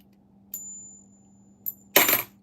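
Two 1971 half dollar coins tapped together, giving a couple of short metallic clinks with a ringing tone and then a louder, brighter clash near the end, close up and with no talking.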